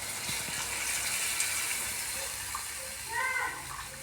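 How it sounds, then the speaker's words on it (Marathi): Milk pouring into roasted, finely ground rice in a pan for Indian rice kheer, a soft broad watery wash with a brief louder splash and stir near the end. "यामध्ये लगेच दूध ओतायचं"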